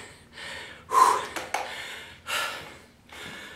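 Heavy, gasping breaths after a lower-body bodybuilding workout, a few loud drawn-out exhales and inhales in close succession, near and alone without speech.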